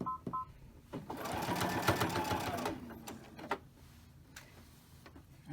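A sewing machine stitching fabric for hand warmers, a fast rattling burst of about two seconds near the mic, framed by a few clicks and quieter handling sounds, with no talk.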